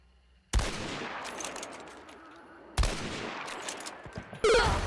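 Gunshots in Hunt: Showdown, two sharp heavy reports a couple of seconds apart, each followed by a long ringing echo tail, then a third loud bang at the very end.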